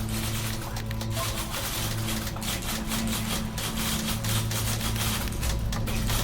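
Rapid, overlapping typewriter clacking from the video game The Beginner's Guide, a dense steady rattle of many keys striking at once, held loud and continuous over a low droning hum.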